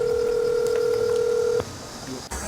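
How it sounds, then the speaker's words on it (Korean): A steady, clear telephone tone sounds during a phone call, holding loudly for over a second before cutting off abruptly, leaving faint line noise and a soft click. "피해자는 이 사업을 소개해주고 차용증까지 써준 회사 관계자와 통화를 해봤습니다"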